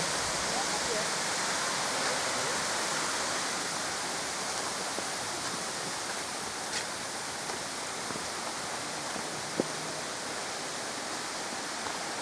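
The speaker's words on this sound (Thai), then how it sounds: "เป็นน้ำตกภูเขาหินปูนขนาดใหญ่นะคะ" Large seven-tier limestone mountain waterfall at Erawan pours in a steady, broad roar of rushing water, loud and continuous throughout, with no voices over it.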